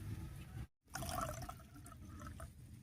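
Whey water left from making chhana, thinned with plain water, is poured into milk: a soft, faint liquid pour and trickle, briefly broken by a short gap and then running on steadily.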